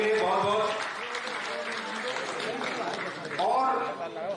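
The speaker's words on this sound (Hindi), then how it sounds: "तालियां बजती हैं बधाई के लिए बहुत बहुत।" Audience applause at a Western Railway job fair event, a steady broadband clapping wash throughout with a swell near the end, with a voice talking over it at the start and again near the close.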